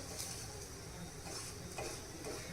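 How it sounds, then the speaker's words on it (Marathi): A methi paratha made with buttermilk roasts with oil on a pan over a medium gas flame. A soft, even sizzle runs continuously with faint scraping. "मिडियम गॅसवर आपण हे छान भाजून घ्यायचे"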